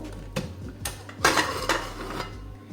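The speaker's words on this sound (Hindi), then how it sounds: "अब यहाँ कुकर का प्रेशर बिल्कुल निकल चुका है। अब हम इसे खोल के चेक कर लेते हैं" A pressure cooker's lid is opened after cooking sarson ka saag, giving several separate metallic clinks and clanks at close range, fairly quiet, with no talking.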